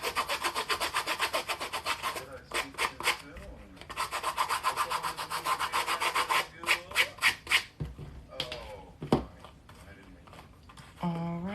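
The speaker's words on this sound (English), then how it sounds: "Just gonna finish sanding the shoe down." Rapid back-and-forth rasping strokes come in quick rhythmic bursts with brief pauses, close and fairly loud, like abrasive rubbing while sanding down a plastic Crocs shoe.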